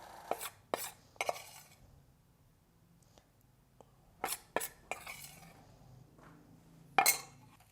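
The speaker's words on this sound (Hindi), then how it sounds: "अब अच्छी तरह मिक्स कर लें तमाम चीज़ों को" Potato and cheese croquette mixture being mixed in a bowl, with sharp utensil clinks and scrapes that come in scattered bursts and quiet pauses between them.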